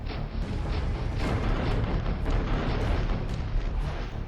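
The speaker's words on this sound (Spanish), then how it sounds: "el capitán Villar enarboló su insignia y rompió el fuego contra las fragatas españolas" Naval cannon fire in a battle between the Peruvian ship Apurímac and Spanish frigates: continuous heavy rumbling with repeated booming reports, loud and dense throughout.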